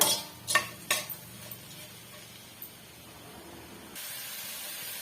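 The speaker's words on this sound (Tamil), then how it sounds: "நல்லா வந்து வதக்கி விட்டுக்கலாங்க" Tomatoes with salt are sautéed in a pan for chicken gravy: a spoon clinks sharply against the pan a few times, then a soft, steady sizzle takes over, with no one talking.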